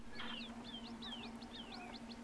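Budgerigars chirp and warble in an indoor aviary at night, a string of quick rising whistles and twitters, moderately close, over a steady low electrical hum.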